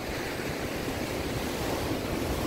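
Rough, agitated sea surf breaking along a seaside promenade at night, a dense and constant roar of waves mixed with wind noise, close and loud, with no talking.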